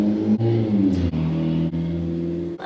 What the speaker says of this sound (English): Love loud cars.